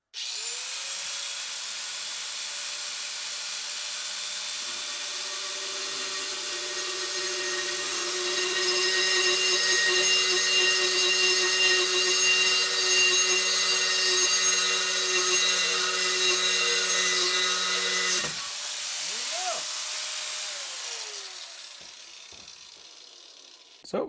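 A VEVOR diamond core drill bit bores dry through the material with a steady close whine and grinding hum for about eighteen seconds, then cuts out and spins down.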